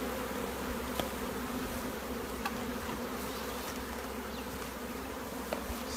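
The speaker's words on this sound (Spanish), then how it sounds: "la cría de abejas" Steady, dense buzzing of many honey bees close by while a nucleus colony is made, continuous and even, with a few faint clicks.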